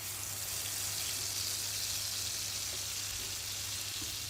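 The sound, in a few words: masala paste frying in oil in a pan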